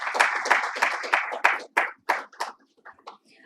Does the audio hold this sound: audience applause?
yes